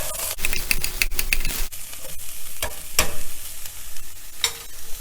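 Sprouts curry is stirred with salt in hot oil in a pan, giving close, rapid scraping and clacking strokes over a continuous crackling sizzle.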